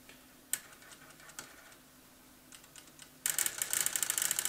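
A TRS-80 CGP-115 pen plotter clicks: a few sparse, sharp ticks, then a dense run of rapid mechanical clicking close by.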